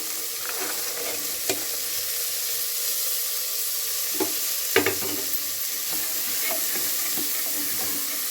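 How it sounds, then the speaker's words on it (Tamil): Beans, carrot and peas sauté in a pan with ginger, a soft steady sizzle with occasional stirring clinks and scrapes, no talk. "காய் எல்லாமே நல்லா வதங்கிடுச்சு."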